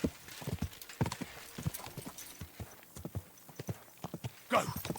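Horse hooves clip-clop steadily on the ground in Kingdom Come Deliverance II, a quick uneven rhythm of close, distinct footfalls with a brief whinny-like burst near the end and some faint talk.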